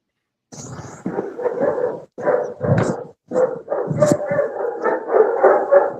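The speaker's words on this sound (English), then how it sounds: "This dog is named Skippy" A nine-to-ten-year-old rescue dog barks repeatedly at close range, in bursts of several loud barks with short gaps between them, some barks strained and yelping, with no talking over them.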